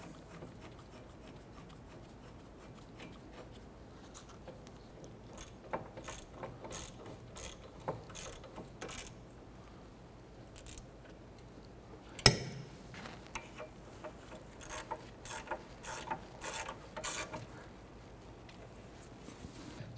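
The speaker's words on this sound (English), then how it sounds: "and then we'll go ahead and snug those down." Close, quiet ratchet clicks as hub assembly bolts are snugged down on a 2006-2013 Chevy Impala during a rear wheel bearing replacement, coming in repeated rhythmic runs with one sharper clank midway.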